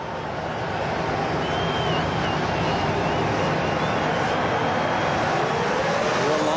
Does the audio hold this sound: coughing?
no